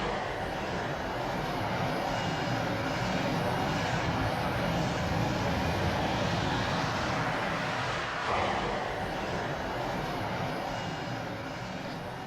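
Jet aircraft with rotating engine nozzles lifting off vertically, a steady, loud roaring engine wash that swells slightly and holds throughout, heard at some distance without voices.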